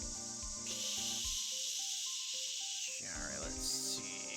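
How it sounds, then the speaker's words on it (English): A forensic spray hisses steadily in the Phoenix Wright Ace Attorney video game, a bright sustained spray over soft game music with short chimes and tones. "time to spray"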